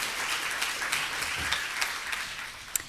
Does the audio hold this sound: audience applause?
yes